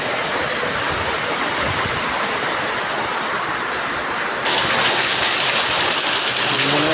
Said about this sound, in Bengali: দেখো তোমরা দেখো, প্রচণ্ড হারে বৃষ্টি হচ্ছে।